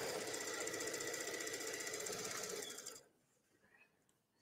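A sewing machine runs fast and steady, stitching elastic onto cotton fabric at a 2.5 stitch length, a close, even mechanical whir that cuts off abruptly, leaving near silence before a brief bump at the end.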